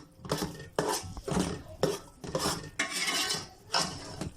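Flour is stirred into sarson ka saag in a metal pot, a spoon scraping and knocking against the sides in steady, loud strokes close by, with no voices.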